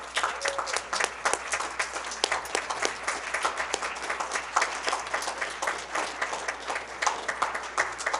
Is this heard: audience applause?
yes